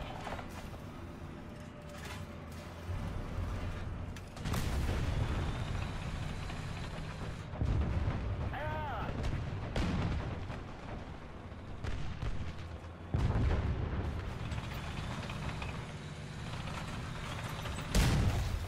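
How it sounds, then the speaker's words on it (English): Tank cannon fire and battle noise in War Thunder, heavy booming blasts at several points over a continuous rumbling mechanical drone, loud and dense with no talking. "Nope, he's shooting at me again."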